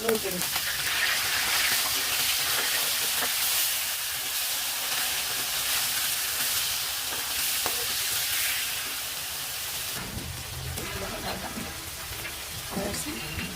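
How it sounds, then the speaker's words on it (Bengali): Large cut pieces of fish fry in oil with a steady, close sizzling hiss and occasional crackles and stirring clatter, continuing throughout and thinning a little toward the end. "দেখো মাছ বড় বড় করে কেটেছি, এগুলো ভাজি করে নেবো"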